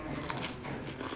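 A crisp bite into a crunchy organic cucumber from Bhutan, one close, loud crunch with juicy crackle lasting about a second.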